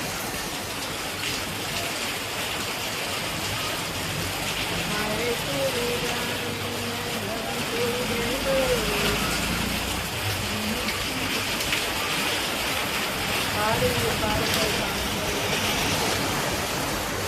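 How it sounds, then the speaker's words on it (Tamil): Heavy rain pours down in a constant dense hiss throughout, with a voice talking faintly beneath the downpour. "மழை நிறையா இருக்குதா"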